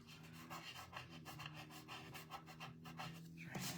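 Rubbing sounds from a finger working stray glue off a handmade greeting card, steady rasping strokes repeated close up with a low background hum and no talking.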